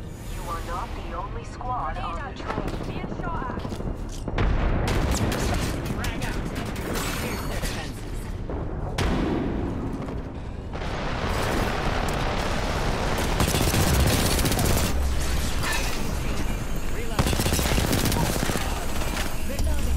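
Rapid gunfire from the video game Apex Legends crackles in dense bursts and sustained volleys throughout, loud and close, with mechanical clatter mixed in under a continuous battle din.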